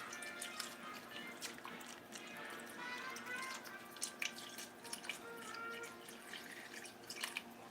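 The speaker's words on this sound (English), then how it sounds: "we'll just add this milk in there real slow" Milk is poured slowly into a pot of potato soup, giving soft, faint trickling and dripping splashes, quiet and close, with no talk.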